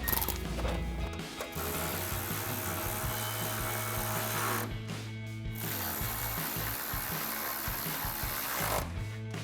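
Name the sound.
ratchet with 10mm socket tightening headlight bolts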